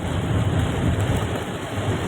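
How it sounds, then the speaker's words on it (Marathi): Heavy rain pouring during a Mumbai morning downpour, a dense steady hiss with a low rumbling undertone, continuous and fairly loud with no voices. "पाऊस बघा, पाऊस एवढा पडतोय."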